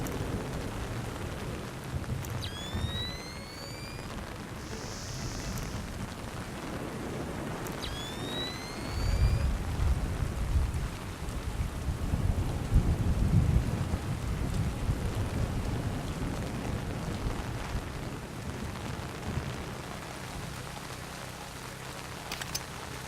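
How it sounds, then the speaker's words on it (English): Steady rain pours throughout the video game Splinter Cell Chaos Theory while thunder rumbles low and heavy in the middle, with a couple of brief whistling tones early on. "Man, it's really raining."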